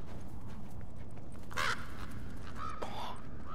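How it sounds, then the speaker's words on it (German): A bird caws a few times in The Last of Us Remastered, the harsh calls clear against the game's low ambient rumble. "Boah, verdammter Vogel."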